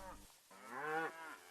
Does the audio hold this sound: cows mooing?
yes